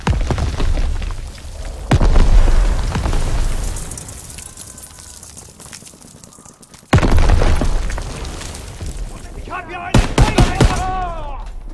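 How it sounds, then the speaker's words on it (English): Heavy booms from grenade blasts mix with bursts of rifle and machine-gun fire in a Call of Duty WWII battle, two sharp loud explosions standing out amid the rattling gunfire and distant shouting. "Grenade!"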